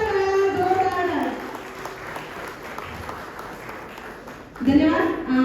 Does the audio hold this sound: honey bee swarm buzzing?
no